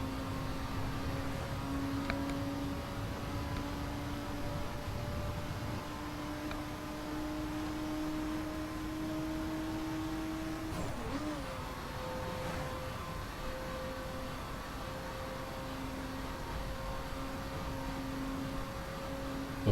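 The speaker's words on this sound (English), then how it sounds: "a sort of double V6, a W12 6-liter engine" A Bentley Continental Supersports with a 6-litre W12 engine drives in The Crew racing game, heard from the cockpit: a steady, loud engine drone whose pitch slowly climbs, then drops and recovers at a gear change partway through.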